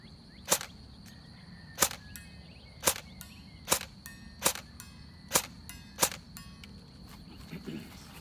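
An E&L AKS74N airsoft rifle with an M130 spring shoots at a target 80 feet away, giving about seven sharp, evenly spaced snapping shots roughly a second apart over a quiet outdoor background with a faint steady insect-like tone.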